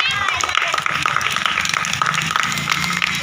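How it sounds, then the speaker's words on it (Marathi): Parents at a school event applaud, a dense burst of clapping from a crowd filling the room, with voices mixed in under it. "टाळ्या वाजवा"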